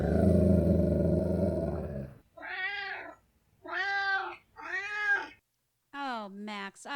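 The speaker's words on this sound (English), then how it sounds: "Oh, Max, I love it when you meow us in, buddy." Pet cat Max meows several times, drawn-out rising and falling calls following a loud burst of noise, with a final sharper meow at the end.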